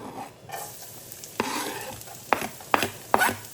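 Four or five garlic cloves fry in two to three tablespoons of oil in a pan, with a soft steady sizzle broken by a few sharp stirring scrapes and clinks near the end.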